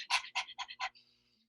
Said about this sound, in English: I'll do the panting breath